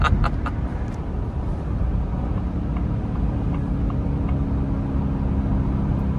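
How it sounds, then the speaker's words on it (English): A Ford Raptor R with the Predator engine running on E85 while driving, a steady loud low rumble of engine and road noise from inside the cab, with no talk. "The Predator engine, this thing with the RPMs just runs so good."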